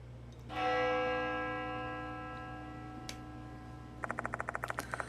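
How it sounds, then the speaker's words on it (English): A bell tolls once, ringing out clear and sustained and slowly fading, in the horror video game Death Mark 2, followed by a quick run of soft ticking clicks. "The sound of a bell echoes in my ears."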